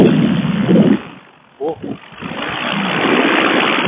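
Paramotor engine droning loudly in flight, then briefly dropping away as the throttle slips before surging back to a steady roar, with a short voice during the dip.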